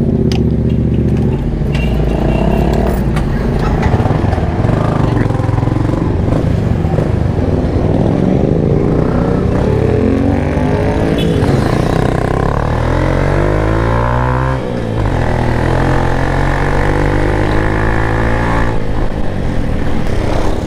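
A loud motorcycle engine revs and roars close by for a sustained stretch, its pitch rising and falling as it passes, with no talk over it.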